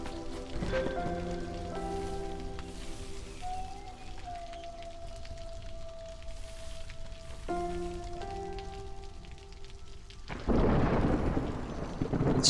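Stormy weather in the city-building game Against the Storm, with rumbling thunder and a rain-like wash swelling loudly near the end beneath sustained musical tones.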